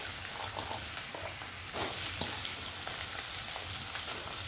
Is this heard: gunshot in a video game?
no